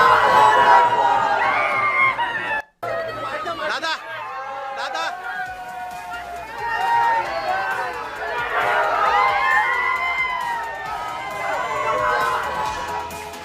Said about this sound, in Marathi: सध्या कार्यकर्त्यांकडून जल्लोष साजरा केला जातोय